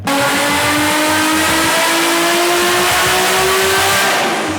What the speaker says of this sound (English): We got a GT-R32 on the dyno today.